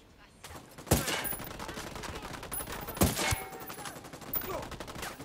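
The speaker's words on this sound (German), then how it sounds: "Manchmal prallt der Schuss ab." Gunfire in the video game Ghost Recon Wildlands: three loud, sharp shots spaced about two seconds apart, with ricochet-like tails, over a steady hum of game ambience and no talking.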